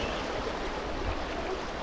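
A river flowing at a picnic spot near Chandigarh, a steady broadband rush of water that holds constant with no voices over it.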